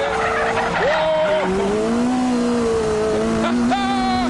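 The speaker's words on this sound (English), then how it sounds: "you can power slide it." A T-Rex three-wheeled vehicle's engine revs hard while tires squeal in long wavering pitches, loud and close, as it power slides in the rain.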